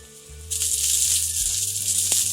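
A stuffed burger cooking in a pan on a stovetop at medium-high heat starts a bright, steady sizzle about half a second in, with faint low clicks and rumbles beneath it.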